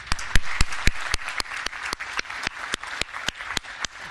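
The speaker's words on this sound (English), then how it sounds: "Can I have a round of applause for my actors?" An audience at an equipment-industry symposium gives a round of applause for actors on stage, sharp hand claps in a brisk, fairly regular rhythm, moderately loud and with no talking over them.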